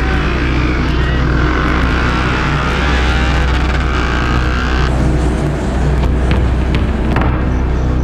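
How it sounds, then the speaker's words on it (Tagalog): Tricycles race in a night drag race on Macapagal Avenue, their engines a loud, continuous roar that climbs in pitch as they accelerate past nearby. "paligsahan ng mga tricycle."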